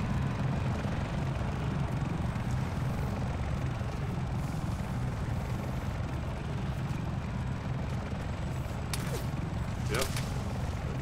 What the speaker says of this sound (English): Fuck these choppers.